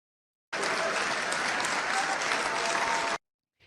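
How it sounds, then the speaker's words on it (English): An audience claps in a dense, even burst of applause lasting under three seconds, loud and uniform, starting and stopping abruptly. "You can hear that applause pretty loudly there."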